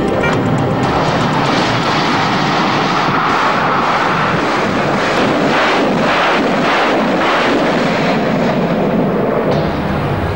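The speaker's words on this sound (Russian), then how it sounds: "Стрельбу специальными глубоководными снарядами выполняет реактивная установка «Град»." Loud, sustained roaring rush of a Grad rocket launcher firing deep-water projectiles, a dense continuous barrage that keeps going for about ten seconds, close and overwhelming.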